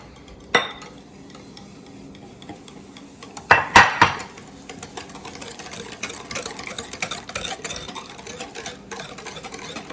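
Spoon scraping and tapping a bowl as sugar is stirred into brownie batter, a few loud clanks early on, then steady rhythmic stirring scrapes continuing close by.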